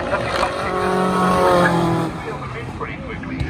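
Racing cars, including V8s and historic outlaw machines, roar past on the Brands Hatch circuit, a loud sustained engine drone that swells and then fades, while a commentator talks over it.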